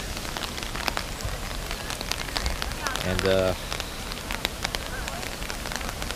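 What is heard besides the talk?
rain falling in a deer park in Japan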